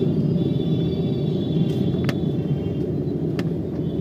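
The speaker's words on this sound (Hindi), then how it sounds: "देखिए तो जाम में इस तरह से गाड़ी चलेगा," A car creeps through a dense traffic jam, with a steady low engine and road rumble and a few faint brief clicks on top. No voices.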